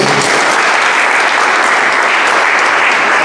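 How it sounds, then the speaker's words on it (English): A church congregation claps together in dense, sustained applause, loud and continuous for a few seconds with no talk over it. "Clap for Jesus."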